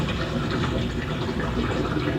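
Water flowing through a Pythagorean theorem demonstration model as it drains from the square compartments into the larger one, a steady close rushing gush with no talk.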